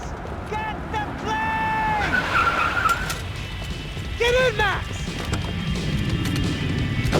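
A car drives and skids in the video game Max Payne 3: engine noise with sharp tire squeals and screeches, under shouting game voices.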